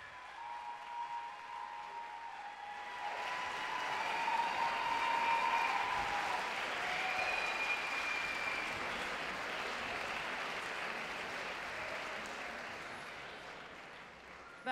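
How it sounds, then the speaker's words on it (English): Sustained applause from an arena crowd after a women's professional squash semifinal, swelling in the middle and holding steady throughout, loud and dense with no talk over it. "can you please give her a massive round of applause, Nour El Sherbini."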